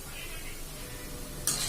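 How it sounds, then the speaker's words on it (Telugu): Punugulu fritters deep-fry in hot oil until golden, a steady soft hiss of bubbling oil throughout, ending in a brief sharper clatter. "ఇలా వేయించుకోవాలి గోల్డ్ కలర్ వచ్చేటట్టుగా."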